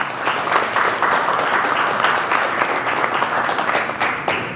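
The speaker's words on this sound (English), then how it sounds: "So just give yourself a round of applause for that." A school audience of fathers applauds at a Donuts with Dad morning event, sustained, even clapping from a crowded room lasting the whole stretch, with a few sharper claps near the end.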